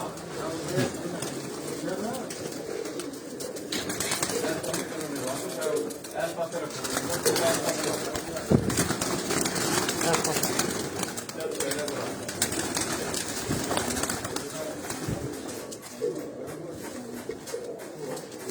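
Pigeons coo in low, throaty murmurs nearby while people talk over them; a steady background hum persists throughout.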